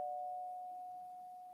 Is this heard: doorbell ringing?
yes